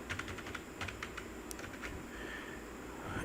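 Someone types Java code on a computer keyboard in a quick run of close, crisp key clicks, then the keystrokes thin out into a few scattered taps over a low room hum.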